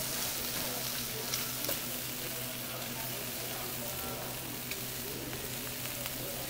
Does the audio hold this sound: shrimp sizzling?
yes